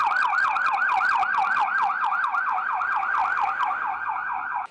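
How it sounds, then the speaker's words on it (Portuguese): An ambulance of the SAMU emergency service sounds its siren in a fast, regular rising-and-falling wail, loud and close, repeating steadily with no voices. "A ambulância tem pressa."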